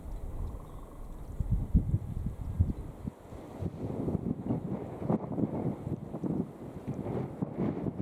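Gusty wind buffets the microphone, producing low rumbling bursts that rise and fall irregularly, loud and close throughout.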